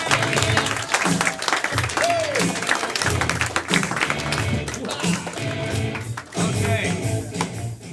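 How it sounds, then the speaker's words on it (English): Crowd at a live main event claps and cheers, steady applause carried under talking and crowd noise, with scattered sharper claps throughout. "Clap for them. Show them some love, everybody."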